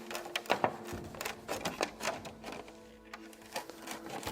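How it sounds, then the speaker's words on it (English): A reamer works holes into a lightweight XRAY X12 RC car body shell, producing faint, close scratchy clicks and short grinding scrapes in an irregular rhythm over quiet background. "be careful with the reamer in these lightweight body shells"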